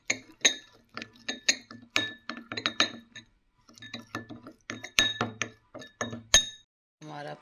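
A spoon stirs a curd-based facial paste in a bowl, tapping and clinking against the sides in quick irregular bursts, close and crisp, with short pauses between strokes.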